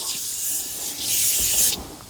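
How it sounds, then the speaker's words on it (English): An aerosol can of upholstery cleaner sprays foam onto car seats in two close, steady hissing bursts, the second slightly longer and louder. "And now we can spray some onto the seats."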